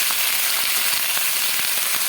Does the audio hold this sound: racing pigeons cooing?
no